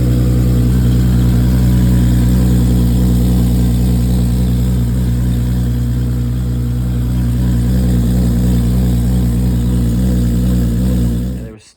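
A 1059bhp six-speed Toyota Supra engine idles steadily and loudly at close range with a deep, even drone, then cuts off abruptly at the end; no voices.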